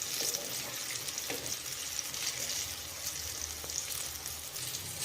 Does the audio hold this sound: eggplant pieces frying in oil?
yes